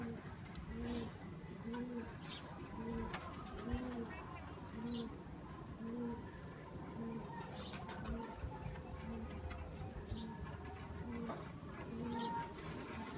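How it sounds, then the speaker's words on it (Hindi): A Salara pigeon coos repeatedly in a low, rhythmic bubbling pattern, close by, with occasional wing flutters and faint chirps in the background and someone talking over it. "लो जी यह मेरा बड़ा फेवरेट कबूतर है सलारा।"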